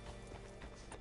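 Horse hooves clip-clop in the Western video game Red Dead Redemption, several quick, close hoofbeats in a steady rhythm over a dense background.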